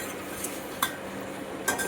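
Dry fruits go into ghee in a metal pan while cooking sabudana kheer, making a few faint, sparse clinks and scrapes of metal against the pan, with no talking.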